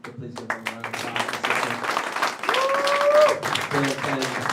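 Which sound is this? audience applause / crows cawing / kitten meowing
audience applause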